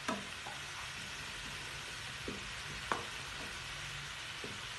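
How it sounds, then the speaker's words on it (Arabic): Onions frying in a pan with a steady soft sizzle, while a spatula scrapes and taps against the pan every second or so; close and fairly quiet, with no talking. "ونستمروا في التحريك حتى تشحر لينا هاد البصل ديالنا"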